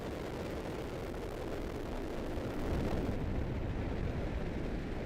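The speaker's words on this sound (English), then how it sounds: "We have ignition and liftoff of the United Launch Alliance Atlas V rocket carrying the proto-flight mission" A United Launch Alliance Atlas V rocket carrying Amazon's Project Kuiper prototype satellites ignites and lifts off, producing a loud, continuous, broadband roar that swells slightly partway through and never breaks.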